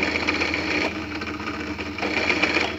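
An electric drill with a 7mm bit countersinking small 3mm holes while mounting a motor, giving a steady close whirring hum that dips slightly midway through.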